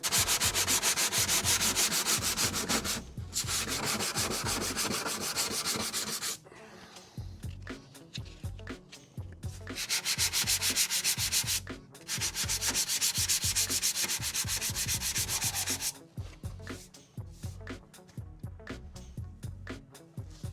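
Body filler on a Volkswagen Beetle is sanded in long, loud, close back-and-forth bursts of rasping friction, with short pauses between passes.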